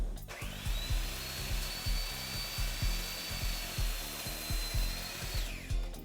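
A power saw cuts through wood for a farmhouse end table leg, its steady high whine running the full length beneath a regular pattern of low thumps, close and continuous.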